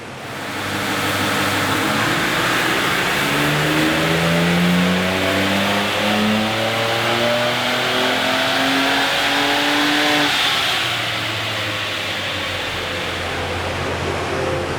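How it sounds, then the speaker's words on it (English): A Ford Ranger Raptor twin-turbo V6 on a dyno revs loud and close, its engine note climbing steadily through the gears for about ten seconds before easing off to a lower drone. "So those last two runs were in 7th gear, but it was hitting the speed cut on the dyno, so Zane's just put it back to 6th gear."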